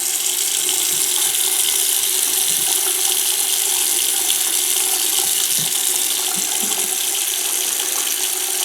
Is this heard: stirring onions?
no